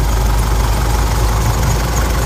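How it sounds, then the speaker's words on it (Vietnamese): A manual 4x4 Isuzu D-Max pickup's diesel engine idles nearby, an even low rumble with a light knocking clatter that holds steady throughout, with no speech. "Đây động cơ đang hoạt động này anh em này."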